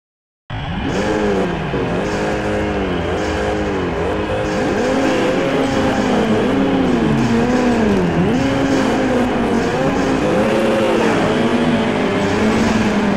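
A Nissan GT-R race car engine roars in the PS2 game Street Racing Syndicate, loud and continuous, its pitch rising and falling through repeated gear shifts with no talk over it.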